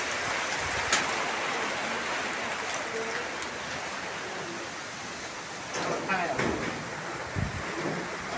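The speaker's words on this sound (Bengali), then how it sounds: "ঝড়ের সাথে বৃষ্টি, তাড়াতাড়ি আসো।" Steady rain with gusting storm wind outdoors at a village home in Bangladesh, a continuous broadband wash that surges louder in places, with brief rustles and knocks; a voice speaks faintly at times beneath it.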